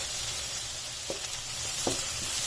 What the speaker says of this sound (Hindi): अब लहसुन और अदरक के पेस्ट को इसमें सिर्फ 1 से 2 मिनट तक ही फ्राई होने देना है।